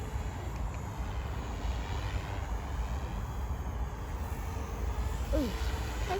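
A Sky Surfer 1480mm RC airplane motor whines steadily in flight at a moderate distance over outdoor background noise, with a brief pitch sweep near the end.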